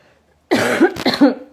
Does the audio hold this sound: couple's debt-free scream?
no